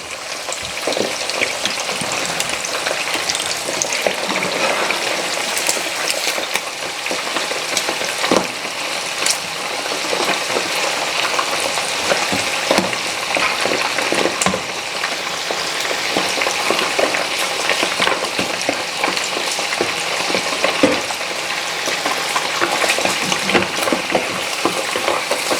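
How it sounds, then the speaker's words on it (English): Plantain (dodo) and gizzard frying in a pan, a steady, loud crackling sizzle running throughout with scattered pops and occasional stirring clatter, no voices. "give it time to fry."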